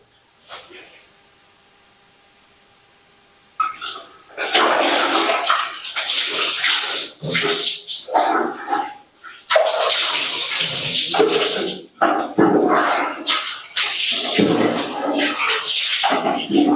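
Water poured from a bucket over a person bathing, heard as a series of close, loud splashing gushes after a quiet opening, each pour breaking off briefly before the next.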